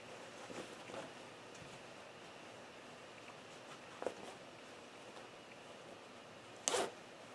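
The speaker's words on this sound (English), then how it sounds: "So we're going to zipper it up and tinker." Quiet brief zipping strokes, with two clearer zips a few seconds apart, over a soft steady background hiss.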